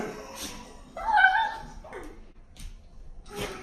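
A dog whimpers and gives a few short, thin yips and soft barks, close by in a quiet room, with brief pauses between sounds.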